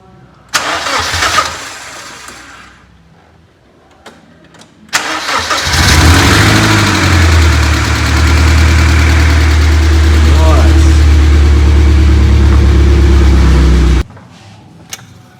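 A 1990 BMW E30 318is engine cranks, sputters briefly, then catches and settles into a loud, steady idle with a slight rev. The idle runs for several seconds before cutting off abruptly. Voices speak before the engine starts.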